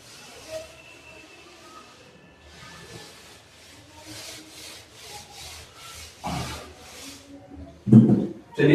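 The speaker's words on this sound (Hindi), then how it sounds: "इसे मैं रब कर देता हूं।" A teacher wipes math working off a classroom board, giving soft, steady rubbing strokes at moderate volume, then a few louder scuffs or knocks at the end, with no talking.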